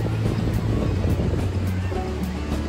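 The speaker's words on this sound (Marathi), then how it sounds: "त्याच्या समोरच हा आहे समुद्र" Sea surf rolls in front of a seaside Ganapati temple as a continuous low wash of waves, mixed with steady wind buffeting the microphone, with no distinct voices.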